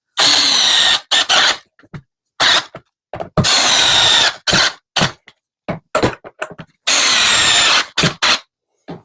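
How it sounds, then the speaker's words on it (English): A handheld power screwdriver drives screws into a plastic Ryobi 40V snow shovel during assembly. It whirs loudly in repeated short bursts, some longer and some clipped, separated by silent gaps. "I'm actually letting the screwdriver spin on purpose in my hand to make sure that I don't over tighten those"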